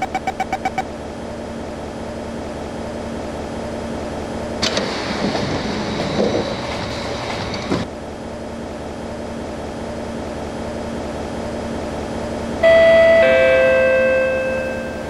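A train's door-closing chime in the OpenBVE simulator plays as a short run of clear electronic tones near the end, over a steady hum of the carriage and a brief rattle in the middle.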